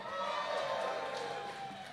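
Crowd at a beetleweight combat robot tournament cheering in a vote for a robot, a sustained mass of shouts and whoops that swells and then eases off, somewhat distant.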